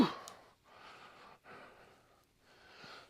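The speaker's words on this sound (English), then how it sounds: "Sorry for all the heavy breathing now." Heavy breathing after planting a container, several loud breaths close to the mic, separated by short pauses, with no speech.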